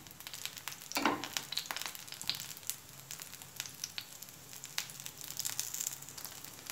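Appam batter sizzles in oil on a tawa with a continuous crackling fry and scattered pops and spits, fairly soft and steady throughout, and no one speaking.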